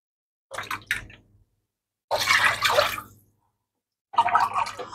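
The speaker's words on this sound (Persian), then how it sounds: "من 4 لیوان توی این آب مرغ میریزم" Chicken broth poured into a pot for broccoli cheddar soup, three separate pours of liquid sloshing and splashing close by, each a second or so long, divided by silence.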